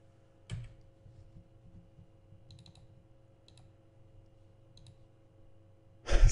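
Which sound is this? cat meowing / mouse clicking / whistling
mouse clicking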